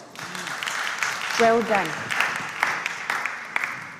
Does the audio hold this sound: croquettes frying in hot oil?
no